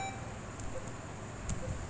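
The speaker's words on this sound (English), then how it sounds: "So that is a beep sound." Short, quiet computer beeps triggered by pressing the space bar in a simple game, two brief tones about a second apart over a faint steady hum.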